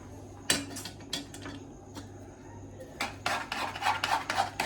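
A utensil scrapes and clinks in a pot as spices are mixed into food, giving several sharp, uneven metallic strikes and rubbing sounds close by with no speech.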